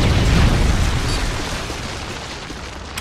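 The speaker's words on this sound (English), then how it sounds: "Friendly Predator missile inbound." A Predator missile explosion in Call of Duty: Modern Warfare 3, a heavy rumbling boom that is loud from the start and slowly fades over a few seconds, ending in a small burst.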